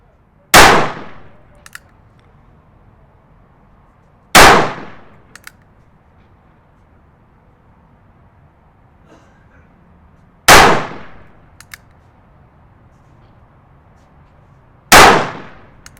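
Four loud, sharp gunshots from a North American Arms .22 Magnum mini revolver, spaced several seconds apart at an uneven pace, each with a short ringing decay and a faint clink after it, over quiet background.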